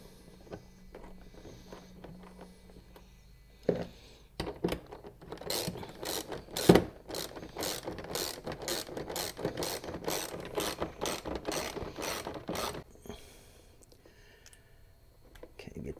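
Bolts being tightened with a ratchet while an electric fuel pump is installed in a Yamaha golf cart, a rapid run of close clicking strokes from about 5 to 13 seconds, with quieter handling sounds around it and someone talking at times.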